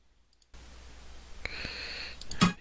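Computer mouse clicks during a livestream, a few faint, sharp ticks scattered over a low background hum, close and quiet with no talking.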